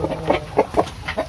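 Rhode Island Red heritage chickens cluck in a coop, a run of short, close, moderately loud clucks spaced irregularly, with no talking.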